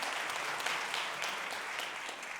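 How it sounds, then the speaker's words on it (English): An audience applauds at a state of the schools address, a soft, even wash of many hands clapping from across a large room, moderately distant and sustained without pause. "so that we can give you a round of applause tonight"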